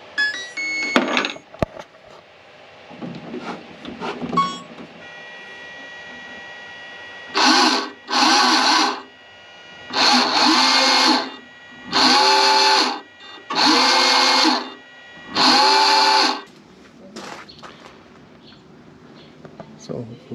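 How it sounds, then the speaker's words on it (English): Six evenly spaced bursts of rough, scratchy abrasion from 240-grit sandpaper on a boat hull, each lasting about a second, with short pauses between them and a few quieter knocks beforehand. "This is the last sanding with 240 grit before painting the boat."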